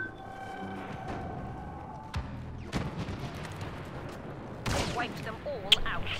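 Blaster fire crackles in a Star Wars Battlefront battle, scattered shots and bursts, some near and some distant, mixed with booms and the din of fighting.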